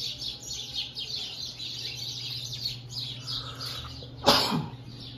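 Small birds chirp outdoors in a steady stream of high, quick calls that carry on for several seconds, fairly faint against the background, until a brief louder knock or rustle near the end.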